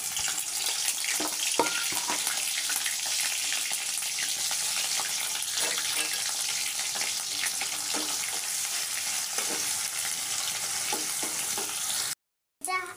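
Crushed onion, garlic and ginger fry in hot oil with a loud, dense sizzle, broken by occasional stirring clinks and scrapes, then cut off abruptly near the end.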